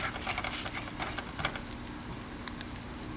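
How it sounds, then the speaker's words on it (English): Green chilli, ginger and garlic sizzle in melted butter while being sautéed, a steady close frying hiss with small pops and faint stirring scrapes, no talking. "add chopped green chilli, then add chopped ginger and chopped garlic. Saute well for few minutes."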